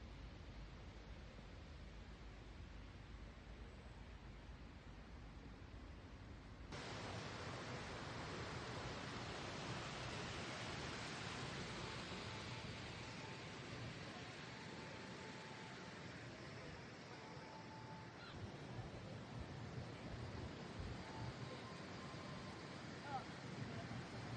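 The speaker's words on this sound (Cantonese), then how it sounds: "我聽住河流聲一路落到底" A mountain river runs near the Arima Onsen hot spring town, making a steady broadband rush that stays constant and grows a little fuller partway through, with no pauses.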